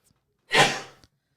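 A single hard human sneeze, close and loud, with a sharp breathy burst that tails off over about half a second, set against near silence.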